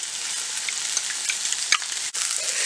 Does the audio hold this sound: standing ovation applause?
no